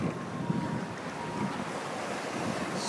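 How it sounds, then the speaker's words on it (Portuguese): Strong wind and rough sea waves wash continuously around a sailboat running under mainsail off Cabo São Tomé, a loud, steady rushing roar with gusty buffeting on the microphone and no pauses. "Onda pra caramba, mar pra caramba."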